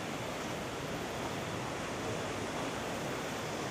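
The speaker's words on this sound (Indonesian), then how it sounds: "Sangat deras sekali teman-teman aliran sungainya." Strong, fast-flowing river rushing beneath a bridge, a dense, steady broadband roar with no pauses and no voices.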